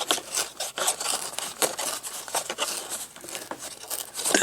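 Paper being torn by hand for a junk journal, a series of quick ripping and crinkling bursts at an uneven pace, close and fairly loud, with no talking.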